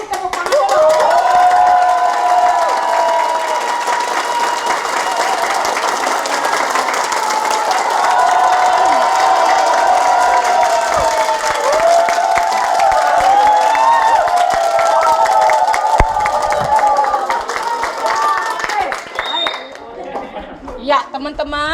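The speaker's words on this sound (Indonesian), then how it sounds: "Coba semua berdiri tepuk tangan dulu." A large crowd claps and cheers steadily, with excited voices woven through the applause throughout.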